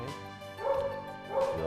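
A puppy whimpers and yips in two short, high-pitched bursts, close by and fairly quiet.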